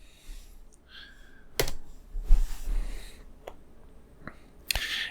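Sharp clicks of keys on a computer keyboard as a short search word is typed, a few separate taps spread across a quiet room.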